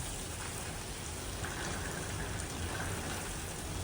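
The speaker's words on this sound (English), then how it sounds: "Boy, it's really raining. Can you guys hear the rain?" Steady rain pours down in a dense, continuous hiss with no breaks, fairly close and even throughout.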